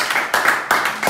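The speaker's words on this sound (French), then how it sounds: "Acclamons pour le Seigneur." A church congregation clapping in acclamation of the Lord, a few loud, close bursts of hand claps in quick succession with short gaps between them.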